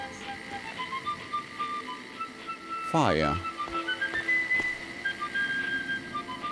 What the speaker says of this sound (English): Why are these little robots wandering around whistling at everyone?